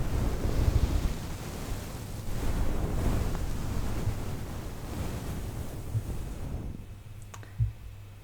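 Soft, close rustling and brushing of fabric, uneven and breathy, fading to near quiet with a small tap near the end.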